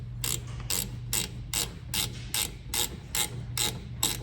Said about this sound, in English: I'm going to put those drain plugs back in, tighten them down.